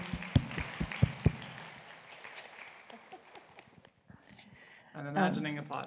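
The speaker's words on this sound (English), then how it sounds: "Yeah, there was applause." Audience applause closing a talk on computing literacy, with a few loud, close claps right beside the microphone over a dense wash of clapping that thins out, before a voice speaks near the end.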